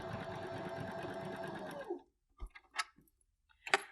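A sewing machine zigzag-stitches main fabric to wadding for a bunny pouch, a steady close rapid whirr running for about two seconds, then stopping, followed by a few faint taps and clicks of handling.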